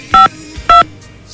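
Telephone dialing tones sound: three short, loud, clean keypad beeps spaced evenly apart, with nothing else heard between them.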